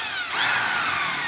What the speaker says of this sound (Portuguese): que vai furar com a furadeira